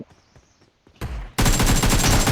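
Gunfire in PUBG Mobile set in a prison map: faint scattered shots and footsteps at first, then a sudden loud, sustained burst of rapid automatic fire close by.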